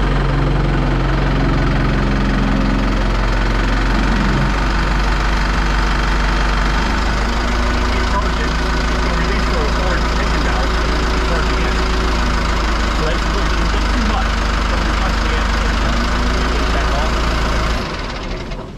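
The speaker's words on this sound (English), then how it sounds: "So the way you test it, you crank it up. You just crank it up." A Putzmeister TK50 concrete pump's engine runs steadily and loudly, a close, continuous idling drone that holds level for about seventeen seconds before cutting off.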